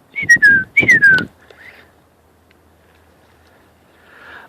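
A whistled imitation of a bird's trilling call: two short rising-falling whistled phrases close together, then quiet with a faint whistle later.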